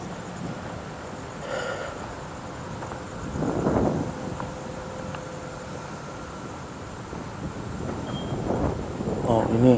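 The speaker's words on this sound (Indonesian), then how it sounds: "Udaranya kencang banget ini. Anginnya kencang." Strong, cold wind blowing at an eerie car graveyard, a steady rushing roar that swells and buffets the microphone while someone talks over it.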